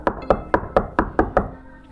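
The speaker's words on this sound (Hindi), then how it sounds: "तभी दरवाजे पर एक ठक ठक हुई।" Seven quick, evenly spaced knocks on a door, sharp and close, the hollow raps falling in a steady rhythm before the sound trails off into quiet.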